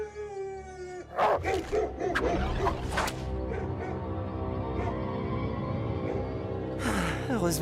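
Hunting dogs barking and howling in an animated cartoon, several sharp barks and a drawn-out howl bursting in after a tonal sound, continuing loud over a busy soundtrack with a voice briefly present.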